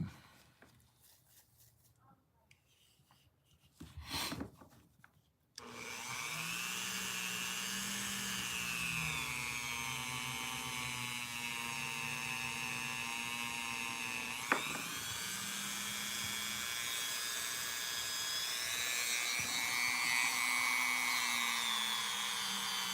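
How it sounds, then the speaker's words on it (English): A Dremel rotary tool reprofiles and polishes the blade of a Case trapper knife, starting after a few soft knocks as a close, steady high-pitched whine whose pitch dips and wavers as the tool meets the steel. "I hope this Dremel's not too loud, guys."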